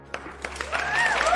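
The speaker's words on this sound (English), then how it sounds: "Claps all around if you're winning today." A short burst of applause sound effect, a few quick claps swelling into a brief wash of clapping, close and fairly loud.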